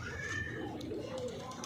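Pigeons coo faintly over low background noise at a home pigeon loft as the birds are let out into the open sky. A quiet voice seems to be present nearby.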